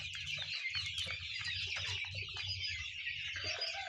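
Some thousand chicks, 67 days old, fill an indoor poultry shed with a continuous, busy mix of chirps and low clucks, near and steady throughout.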